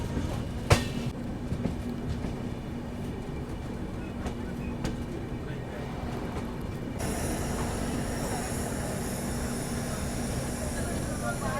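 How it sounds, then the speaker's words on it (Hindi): The Sapt Kranti Express rumbles at Harinagar station platform, a steady rolling rail noise with faint clicks and a low hum throughout, a sharp clank early on and a denser wash of sound in the later half. "प्लेटफॉर्म नंबर 2 पे हमारी सप्त क्रांति एक्सप्रेस आई है"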